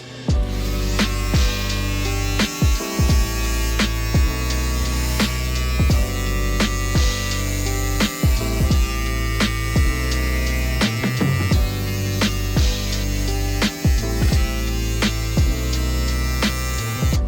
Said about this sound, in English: Now we're gonna start shaving. I have my peanut ready.